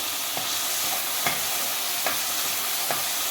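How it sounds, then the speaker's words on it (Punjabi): Chopped onion and green chillies frying in hot oil on a stovetop, a continuous dense sizzle with a few soft scraping stirs spaced through it, close and unaccompanied by voices. "ਇਹਨੂੰ ਹੁਣ ਆਪਾਂ ਥੋੜਾ ਜਿਹਾ ਆਪਾਂ ਪਕਾਵਾਂਗੇ ਜ਼ਿਆਦਾ ਨਹੀਂ ਆਪਾਂ ਭੁੰਨਾਂਗੇ ਆਪਾਂ ਪਿਆਜ਼ ਨੂੰ"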